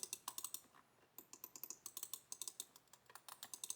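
Quick, light typing on an Asus TUF A16 laptop keyboard, a dense run of crisp clicks with one brief pause, close and clear with no talking.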